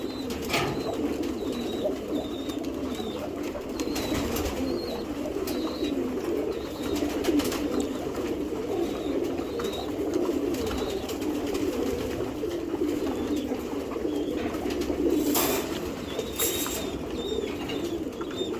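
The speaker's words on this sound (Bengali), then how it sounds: "এই যে এটি নর কবুতরটি" Several Giribaz high-flyer pigeons kept for sale give a dense, unbroken chorus of nearby cooing, dotted with short higher calls and brief wing or feather rustles.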